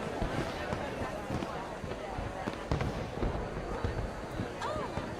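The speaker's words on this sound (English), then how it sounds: "Let me enjoy the fireworks" Fireworks in the video game Red Dead Redemption II, a rapid series of sharp pops and crackling bursts, some near and some farther off, repeating irregularly throughout.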